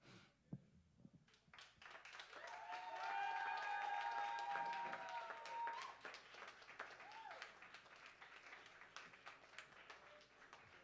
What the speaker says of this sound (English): Keep that round of applause going for Jackson.